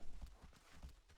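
A horse's hooves clip-clop in a rhythmic, quick walking beat in the video game Shadow of the Colossus (2005), soft and muted.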